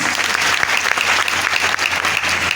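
An audience at a business seminar in Gorakhpur breaks into loud, sustained applause, a dense, even wash of many hands clapping close by with no speech over it.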